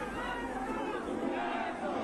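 Congress party workers celebrating at Tilak Bhavan in Mumbai, a crowd cheering and shouting together in a sustained, moderately distant roar of voices.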